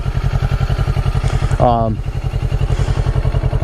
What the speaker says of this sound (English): My 2016 Kawasaki Ninja 650. So here she is.